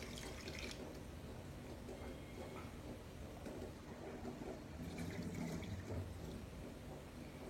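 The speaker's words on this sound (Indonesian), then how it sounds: "kita akan buang airnya dan kita bilas lagi" Boiled broccoli being drained and rinsed under running water, a faint steady stream and splashing in a sink, with brief clatters of the vegetables and pot.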